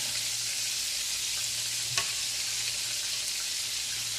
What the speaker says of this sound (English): let's go ahead and drop some more in here and get these going